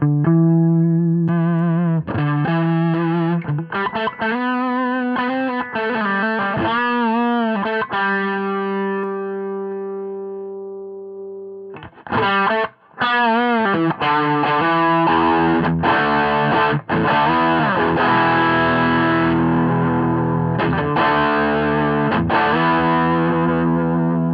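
Electric guitar through a Hiwatt Crunch 150R amp head, playing chords and sustained notes with a clean tone, then a louder, more driven passage after a short pause.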